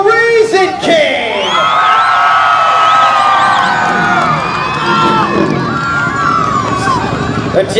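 A crowd at a motocross freestyle event cheers and whoops loudly and steadily after a brief pause, with shouts rising over a continuous roar that holds at full volume throughout.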